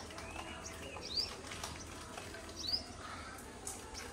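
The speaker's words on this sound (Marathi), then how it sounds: "बघा तिकडे गेला सनबर्ड. तो दोन आहेत तिथे सनबर्ड" Two sunbirds in a village garden give a couple of thin, high chirps at a distance, faint against a soft morning background hum.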